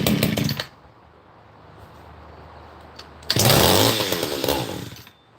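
Small engine being coaxed to start by working choke and throttle: a brief sputtering burst, a lull of low idle-like hum, then a louder rough catch that runs a second or two and fades.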